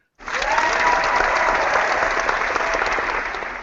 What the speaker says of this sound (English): Wait, we gotta cheer!